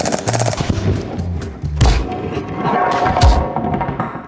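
Simulated gunfire cued by a film prop gun, with rapid loud cracks and bursts in quick succession, briefly overlapping with voices.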